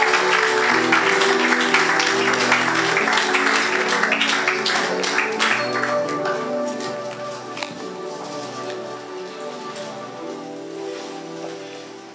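A church congregation applauds and cheers in a loud, dense burst for about six seconds, then the clapping fades as sung worship music with sustained tones carries on.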